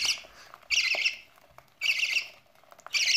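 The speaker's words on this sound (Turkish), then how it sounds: "Niye cıyak cıyak yapıyorsunuz?" Budgerigar chicks give three loud, harsh squawks in a regular pattern, each lasting about half a second and separated by short quiet gaps, close by and with no talking.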